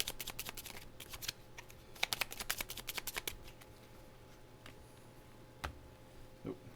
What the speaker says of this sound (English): I'm going to need to draw cards, so I've got to draw 3 more cards to get to a 4-card hand